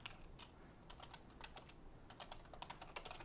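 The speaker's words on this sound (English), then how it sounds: "Type in my address." Quiet typing on a computer keyboard, soft irregular key clicks in short bursts with a steady faint background hiss.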